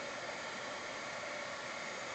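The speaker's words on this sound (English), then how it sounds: "you can just use your dryer or your heat gun to go around the fleshy parts of the gourd" A hair dryer or heat gun blows steadily on a yerba mate gourd, a constant close airy whoosh with no breaks, running alone without talk.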